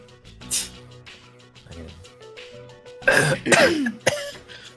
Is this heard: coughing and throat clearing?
yes